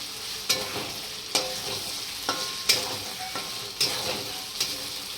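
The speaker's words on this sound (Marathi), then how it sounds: "तेलामध्ये चांगली परतून घ्यायची अद्रक लसूण पेस्ट" Ginger garlic paste fries in hot oil for chicken keema, a constant sizzle punctuated by about five sharp spatula scrapes at a steady pace, close and alone.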